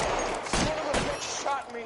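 Gunshots in LA Noire, two sharp cracks roughly half a second apart in a tense scene, loud and close, with voices in the mix.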